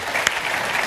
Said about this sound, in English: I think a round of applause there.